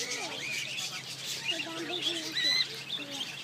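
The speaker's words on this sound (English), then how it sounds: "You can't pet these birds." Small birds chirp and tweet in quick bright bursts while pecking at seeds held out to them, close up, with a few duck-like calls mixed in and people talking softly nearby.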